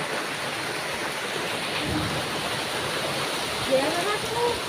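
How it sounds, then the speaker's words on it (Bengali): Heavy rain pours down in a loud, dense, continuous roar like rushing water, with a couple of brief louder bursts near the end and a voice briefly audible. "আর আওয়াজটা একবার শুনলেন তো কেমন, প্রচণ্ড বৃষ্টি হচ্ছে।"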